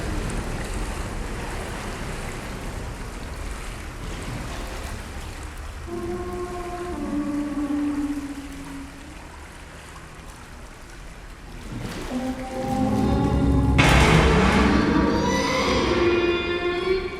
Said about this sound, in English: here's some water coming in